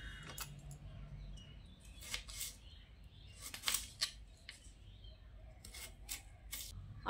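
Drumsticks (sajna data) and potatoes being cut into long, thick pieces with a blade, heard as irregular sharp cutting clicks and snips, fairly quiet and close, with no talking.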